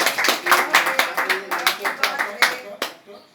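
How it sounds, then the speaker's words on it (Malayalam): Rhythmic hand clapping at a birthday celebration, about a dozen sharp claps in steady beat, close by, with voices mingling faintly underneath. "കൈയടിക്ക്"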